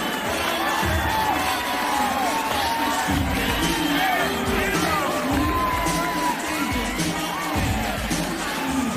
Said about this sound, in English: Hearing some cheers and boos